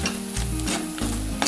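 Clam meat fry being stirred in a clay pot, steady sizzling with repeated scraping strokes of a spoon against the pot, close and continuous.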